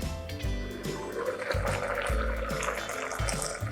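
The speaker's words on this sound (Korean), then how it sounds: "육수를 좀 찰랑찰랑하게 부어주세요" Broth pours into a pot of braised kimchi, a close gurgling, splashing liquid stream with rhythmic glugs over a few seconds.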